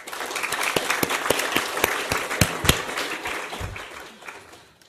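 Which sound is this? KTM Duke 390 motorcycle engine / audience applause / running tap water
audience applause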